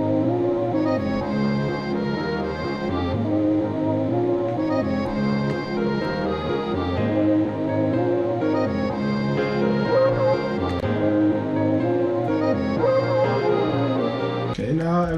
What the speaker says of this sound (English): Okay, so the xylophone's done.